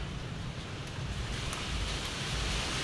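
Wind rushes steadily against the microphone by a river as a typhoon nears, a broad continuous roar with faint ticks, slightly strengthening toward the end.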